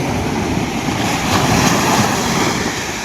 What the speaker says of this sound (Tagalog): Dambuhala yung alon guys